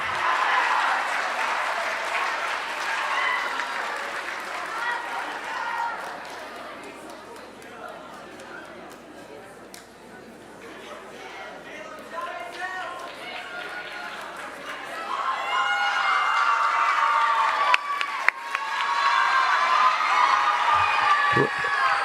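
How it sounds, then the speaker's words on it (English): Audience applauding and cheering for Citizenship Award winners at a junior high school awards ceremony, steady clapping throughout with chatter, building louder near the end with whoops. "Round of applause for your Citizenship Award winners"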